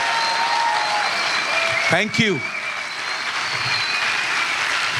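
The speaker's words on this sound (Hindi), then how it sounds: "आइए उसके लिए जोर से ताली बजाएं" A church congregation applauds for Jesus, a dense sustained clapping from a crowd that runs the full length, with someone speaking briefly over it partway through.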